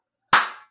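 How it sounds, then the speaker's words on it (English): A single sharp clap from the film Death on the Nile, one crisp hand strike with a short bright decay, heard alone against silence. "The slow clap."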